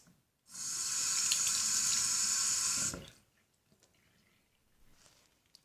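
Tap water runs into a sink for about two and a half seconds while a doll's head is washed with soap, a steady close hiss that stops abruptly, followed by faint handling noises.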